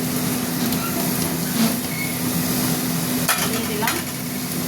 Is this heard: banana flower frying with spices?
yes